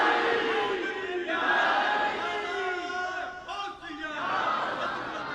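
A crowd at a religious gathering chants a slogan for Mola Ali in loud, rising waves of many voices, with brief dips between the shouted phrases.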